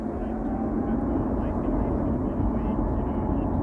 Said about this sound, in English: Now, airplane engines being started.